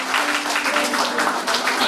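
Audience applause for a singer at a live dance-music event, a steady, dense patter of clapping filling the whole short stretch at fairly even loudness, with a faint sustained tone underneath.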